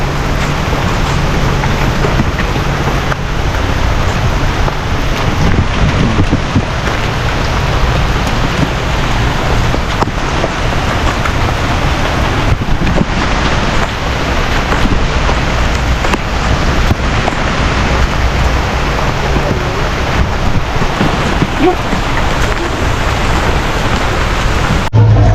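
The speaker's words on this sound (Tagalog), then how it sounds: "Grabe, lakas ng ulan, oh." Heavy rain pours down with gusting wind in a steady, dense roar that stays loud and unbroken throughout, with no voices.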